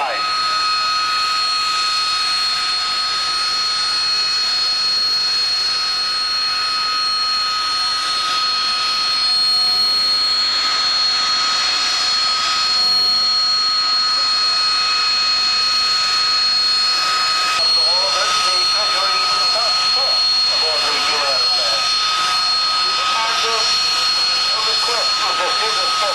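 A pair of jet display aircraft runs in at a 1997 military airshow at Old Warden, producing a steady, moderately loud whine with a few sustained high tones that grows slightly as they approach.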